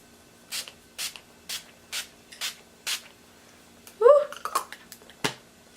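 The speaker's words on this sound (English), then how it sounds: "I will be using the Natural Finish Photo Focus setting spray by Wet n Wild." Wet n Wild Photo Focus Natural Finish setting spray is misted in six short, crisp pumps at an even pace, and a brief rustle and a soft thud follow close to the microphone.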